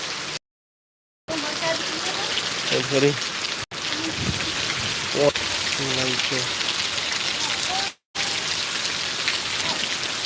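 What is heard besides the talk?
rain falling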